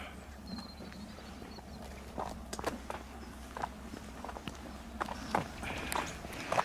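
Footsteps crunch along a farm path near Dunster Beach, England at a steady walking pace, fairly faint, with a quiet open-air background.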